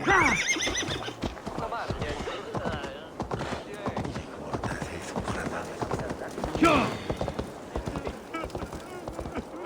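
Horse galloping in Assassin's Creed Valhalla, with steady clip-clop hoofbeats and whinnies mixed under continuous game speech and other sounds, fairly close and prominent.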